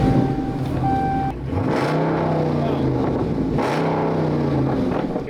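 A car engine at a street car meet revs twice in quick succession, each rise swelling loud and close before dropping back to a rumbling idle, with people talking nearby.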